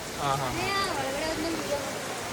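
Rain falls steadily at Dharmasthala temple in Karnataka, a continuous soft hiss beneath faint voices.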